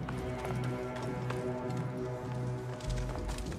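Horse hooves clip-clop at a steady trotting rhythm in the ancient Egyptian setting of Assassin's Creed Origins, fairly loud under a faint game soundtrack, with no talk.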